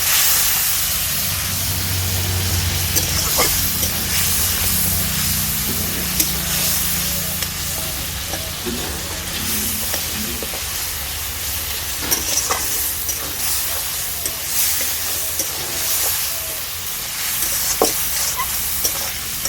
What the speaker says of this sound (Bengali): একটু জল, মশলাটাকে কিছুক্ষণ কষিয়ে নেব।